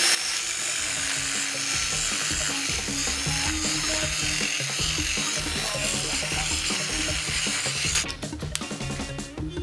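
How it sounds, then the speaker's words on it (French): A small drill bit bores out support material clogging holes in a 3D-printed part, giving a steady, close, high-pitched whirring grind that runs continuously and roughens near the end. "vous pouvez être amené à utiliser un petit foret pour aller nettoyer"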